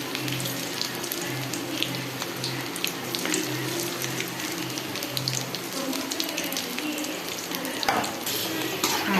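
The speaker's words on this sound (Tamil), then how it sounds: "இப்போ வந்து நான் எண்ணெய் காஞ்சிச்சு, நம்ம கொஞ்சம் கொஞ்சமாக போட்டு பொரிச்சுக்கலாம்." Cauliflower 65 pieces deep-frying in hot oil, a steady dense sizzle and bubbling hiss running throughout at moderate loudness, with occasional stirring scrapes near the end.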